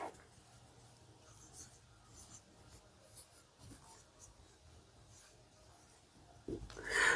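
A pen scratches out a maths solution on paper, a quiet, close rustle of strokes running for several seconds before a louder scuff at the end.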